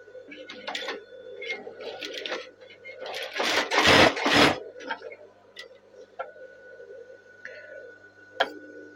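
A sewing machine rattles through bursts of stitching along the sleeve cuff of a hand-drawn batik tulis garment, running in short runs and pauses under a person's steady talk.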